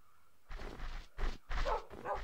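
Dogs in a snowy Minecraft winter village let out four close, rhythmic barks in quick succession, each burst short and fairly loud over a quiet background.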